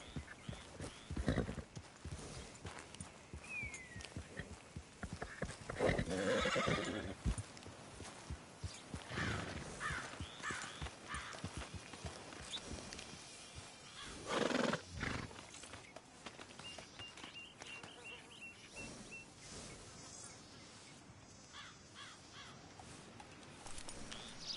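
Red Dead Redemption 2 gameplay with a horse nearby, hooves clopping irregularly and a brief neigh or snort among quiet outdoor ambience, fairly faint overall with sporadic louder bursts.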